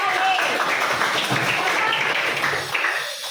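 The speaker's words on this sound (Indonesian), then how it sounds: "Tepuk tangan ya untuk mereka" A class of students claps for classmates during an English lesson, a brisk burst of applause that holds steady and then fades away toward the end.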